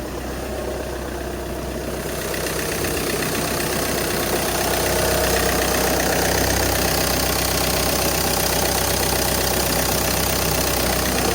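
A 2010 VW Jetta Sportwagen TDI diesel engine idles after an emissions delete, a steady, loud, rough rumble close by that gets noticeably louder and fuller after about two seconds, then holds even with no talking.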